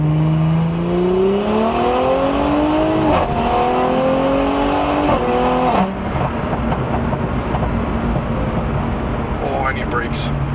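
A 2022 Audi S4 with a turbocharged six running on E85 revs hard through rising gear pulls, its engine note climbing and dropping at each shift, loud and close, with people talking inside the car.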